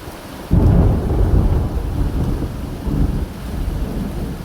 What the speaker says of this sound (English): I don't know if y'all can hear that or not, but I believe it has put in the rain.